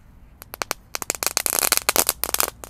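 Dinosaur-egg firecrackers crackling after being lit, with a burst of sharp, rapid pops and snaps that build into a dense, close crackling before tapering off.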